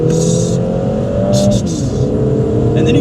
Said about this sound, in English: you cannot get sick of listening to that turbo flutter